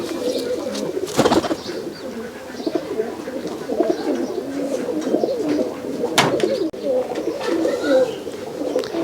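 Pigeons in a loft, green pigeons among them, give a steady chorus of low throaty coos, overlapping and continuous, with a couple of sharp flutters or clacks close by.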